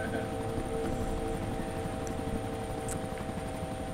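A helicopter in the DayZ video game drones on steadily with a constant rotor hum and engine tone, loud and unbroken, with faint voices now and then.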